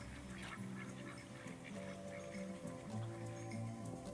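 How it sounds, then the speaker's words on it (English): Ducks and geese at Potter Flats near Anchorage, Alaska, honk and quack in overlapping low calls over a soft outdoor wash, fairly faint and continuous. "Potter Flats, a mere 10 miles from Anchorage, is a wonderful place to view wildfowl"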